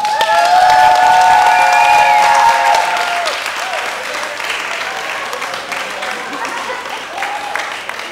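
Audience applause for a band at a Shrovetide carnival dance, a dense, sustained clapping crowd with some cheering, loudest at the start and then settling to a steady roar while music tones ring over it.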